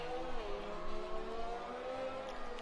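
An F1 car in F1 2020 racing at the Brazil circuit, a steady high-pitched engine whine held at speed, fairly faint and alone.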